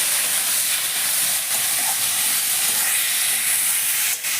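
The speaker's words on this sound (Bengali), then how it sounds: "পেঁয়াজটাকে এখন আমি একটু লাল লাল করে ভেজে নিচ্ছি।" Chopped onions frying in a pan after garlic, for a chicken curry, give a steady, loud broadband hiss and sizzle that runs unbroken throughout, with no talking.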